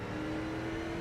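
Steady race car engine drone from a sim racing game, a continuous whirring tone holding close and even for about a second with no talk over it.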